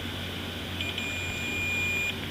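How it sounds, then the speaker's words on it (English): A multimeter's continuity beeper sounds one steady electronic tone of about a second as its test leads touch each other, close and clear over a faint room hum. "if I put it on this beeper one,"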